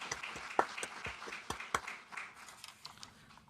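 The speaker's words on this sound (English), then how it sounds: "one round of applause for Astrolab" Scattered, sparse clapping from a small audience, a handful of distinct claps that thin out and fade.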